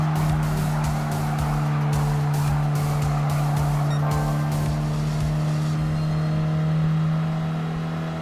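A 2015 Renault Sport Clio RS 220 EDC Trophy races in Gran Turismo Sport, its engine holding a loud, steady drone while quick tyre-squeal bursts and sharp gearshift blips punctuate the first half, close and without voices.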